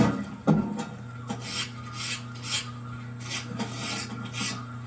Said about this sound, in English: Now you'll need to use a brass brush to get into the pockets.